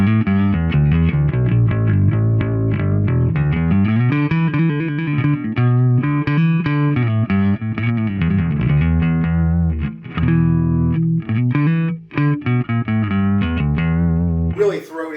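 Electric bass, an 1980s Ibanez RB760 Roadstar II on its front P-style pickup, playing a warm, throaty melodic line with sustained notes and shifting pitches, loud and continuous throughout.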